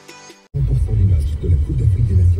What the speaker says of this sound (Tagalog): nag-traffic din pala sa highway